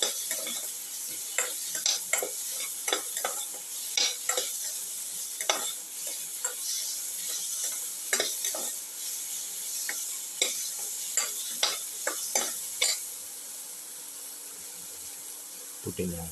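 Tomato pieces sautéing in a pan, with a steady soft sizzle under a series of sharp scraping and stirring clicks from a utensil. The stirring stops near the end, and the quiet frying continues alone.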